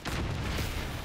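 A tank cannon blast in War Thunder, one dense, booming burst that fills the whole moment, loud and close, with no voice over it.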